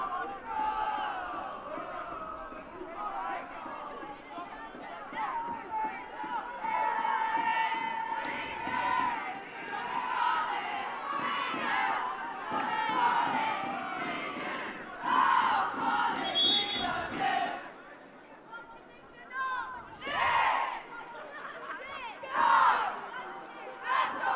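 A smaller Northumbria supporters' crowd at a women's university football championship final chants and shouts, rising and falling in loud waves of voices for the whole stretch.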